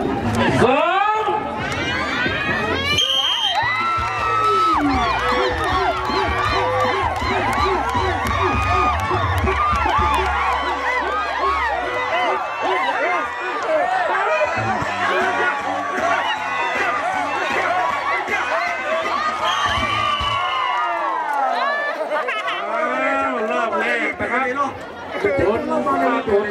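A crowd cheers and shouts continuously at a village New Year tug of war in Chiang Rai, with many excited voices, whoops and chatter close by and loud throughout.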